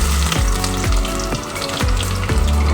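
Chopped onions fry in hot oil for a Bengali egg curry, giving a loud, steady sizzle with a few brief scrapes of a spoon stirring through the pan.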